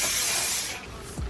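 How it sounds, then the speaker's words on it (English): Olive oil wig spray misted onto braided hair, a close, airy hiss that sprays steadily and then fades off, ending with a small handling knock. "I'm gonna take that olive oil wig spray and kind of just"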